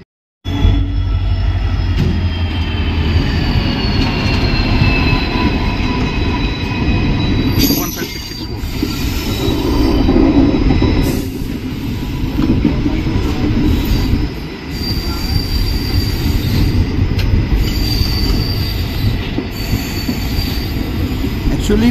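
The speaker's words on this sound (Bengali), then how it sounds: "এদিকে কোনো ট্রেন আসছে, ট্রেন নাম্বার 15664 এর আসছে আগরতলা এক্সপ্রেস" Agartala Express, train 15664, passing on a single-track line, a loud close rumble of rolling wagons with squealing wheels and rhythmic clatter sustained throughout, with brief dips as cars go by.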